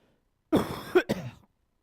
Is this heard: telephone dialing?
no